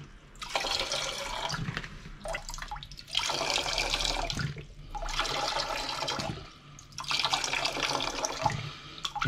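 Water forced under hand pressure through an OKO filter bottle, coming in four strong hissing, spraying bursts separated by short pauses, close and fairly loud.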